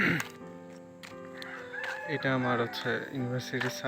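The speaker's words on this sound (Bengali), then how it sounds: "ওই যে মোরগের ডাক" A rooster crows at dawn near a university rooftop, its calls rising behind someone speaking close to the microphone, who talks over the crowing for the whole stretch.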